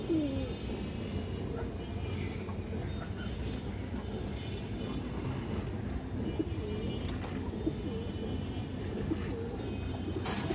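A group of pigeons, both males and females about a hand in size, coo softly and continuously against a dense, steady background hum. A few brief sharp clicks break through now and then.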